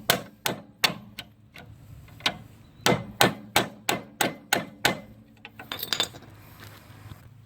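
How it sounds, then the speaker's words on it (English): Sharp metal-on-metal hammer taps drive a stuck bolt through a Dodge Durango front strut assembly, in irregular clusters of close, ringing blows over several seconds that end with a lighter rattle, with no speech. "I'm just going to see if I can't tap it through here."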